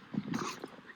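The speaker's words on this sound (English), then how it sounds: "Look at that happy, happy dog." A dog whimpers and yips in two or three short, soft, high cries, heard faintly from a played-back recording of it romping happily through snow.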